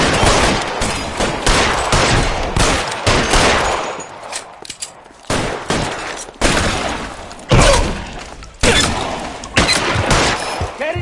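Rapid bursts of gunfire in a shootout from the video game L.A. Noire, loud and dense with repeated volleys and sharp shots, a brief lull midway, then more heavy firing near the end.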